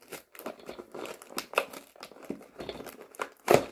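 Plastic packaging being torn open by hand while unboxing toy animal figures, a string of crinkly rips and rustles close up that build to a sharper tear near the end, with no one talking.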